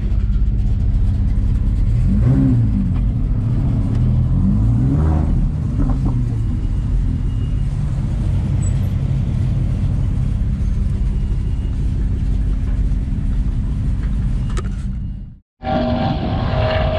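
Lamborghini Huracan being drifted, its loud engine droning and revving continuously with rising and falling pitch and heavy rumble, ending in a brief sudden cutoff before a different, quieter sound takes over.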